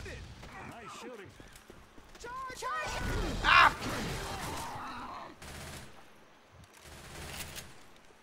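Gunfire in a video game rattles out in fairly close bursts among mechanical clatter and game effects, with one louder blast midway; voices talk briefly over it.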